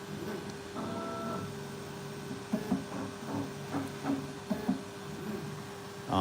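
A 3D printer, a Creality K1 or Bambu Lab, runs its LiDAR calibration: steady motor hum with stepped whirring tones and a series of short mechanical clicks and buzzes, close and alone.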